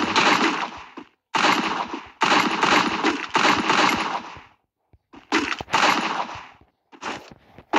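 Automatic gunfire in the mobile shooter game Free Fire, several long rapid bursts separated by short silences, loud and close, with a few single shots and no voices.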